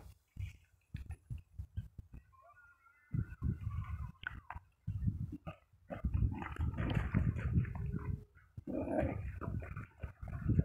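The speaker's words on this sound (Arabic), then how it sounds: "نلاحظ هذا الكلب يلهو ويلعب" A dog snuffles, pants and scuffles nearby in a rural crop field beside an irrigation pipe, in short bursts with pauses between, with faint chewing and rustling as it plays.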